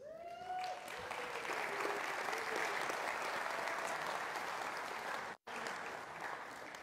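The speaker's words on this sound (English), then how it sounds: "you're welcome to applaud after I call each of these folks' names." Applause from a church congregation for high school and college graduates, a steady wash of clapping that holds for several seconds, breaks off abruptly for a moment, then resumes.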